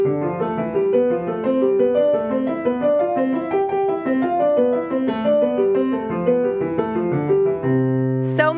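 Fast broken-chord piano exercise for beginners, with rapid repeating arpeggiated notes rolling up and down in a steady, continuous stream, played loud and close, ending on a sustained low chord.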